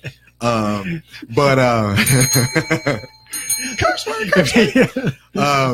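A bright bell rings in short repeated dings while people talk loudly over and around it.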